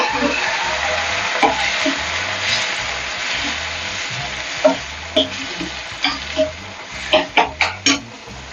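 Tomatoes drop into a hot pan of garlic, onion and curry-leaf masala for a Tamil kathirikai curry, hissing with a steady close sizzle, then a run of sharp spoon taps and scrapes against the pan near the end.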